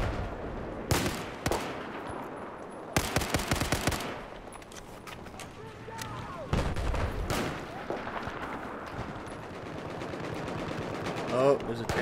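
Rapid bursts of gunfire from the video game Battlefield 4, loud volleys and single shots cutting in and out over a busy battle background, with players talking intermittently.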